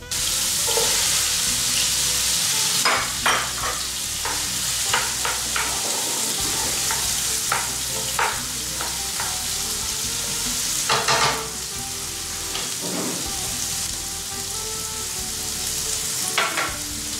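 Onions hit hot oil with garlic and ginger in a sauté pan, giving a loud, steady, close sizzle punctuated by repeated clinks and scrapes of stirring.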